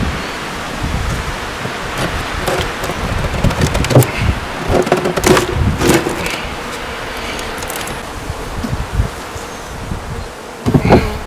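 Honeybees buzzing in an opened hive as the frames are shifted while the nest is reduced for winter, a dense, steady hum with close individual buzzes and light knocks of the frames, no talking.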